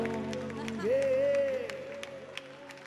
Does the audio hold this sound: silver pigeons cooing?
no